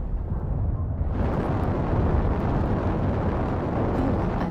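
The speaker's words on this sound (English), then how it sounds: "Artillery strike online." Artillery strike explosions in a video game, a loud, sustained rumbling roar that swells suddenly after a second and stays dense and powerful throughout.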